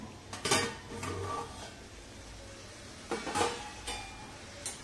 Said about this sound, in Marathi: झाकण उघडून बघूया